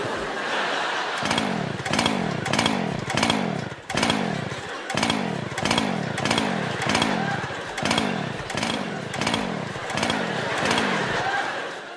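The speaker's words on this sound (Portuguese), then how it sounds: "Mas a serra que não queria ligar aumentou ainda mais a tensão no auditório." A chainsaw on a stage that repeatedly refuses to start, giving a regular series of pull-cord rasps and sputtering engine coughs, about a dozen in quick rhythmic succession over a murmuring background.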